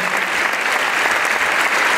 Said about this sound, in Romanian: Primim acum în aplauze furtunoase invitații noștri, corul Madrigal